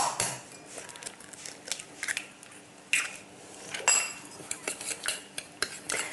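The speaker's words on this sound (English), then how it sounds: "just mix them together until the sugar almost dissolves into the egg" Caster sugar and egg being beaten together in a bowl, giving a quick, irregular run of close clinks and scrapes of utensil against the bowl, with no talking.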